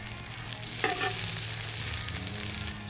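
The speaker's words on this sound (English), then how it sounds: "So our oil's getting nice and hot. Go ahead, I'm gonna drop in my onions to start with." Onions dropped into hot oil on a rocket stove for smoked chili, frying with a steady close sizzle and crackle that swells slightly after they land, no talking.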